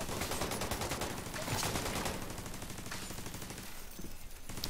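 Sustained rapid automatic gunfire from a deployed turret in The Division 2, dense and continuous over the whole stretch, loud and close with no voices.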